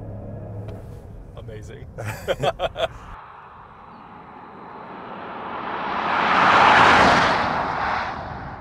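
A fully electric 2024 Rolls-Royce Spectre with two motors and 584 horsepower accelerates without launch control, a smooth whooshing rush that swells to a peak and fades after brief talk and a few clicks at the start.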